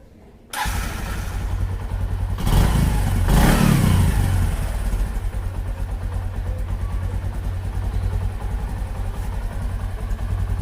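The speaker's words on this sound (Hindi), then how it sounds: "आप लोग जो है इंजन का ट्यूनिंग का आवाज जो है सुन सकते हैं" A freshly serviced Bajaj Platina 100 motorcycle engine cranks and fires up, briefly revs louder, then settles into a steady, rumbling idle close by.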